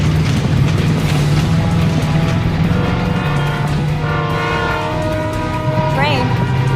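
In an animated chase scene, an approaching train makes a loud, close engine rumble, and a sustained horn blast rises over it in the second half.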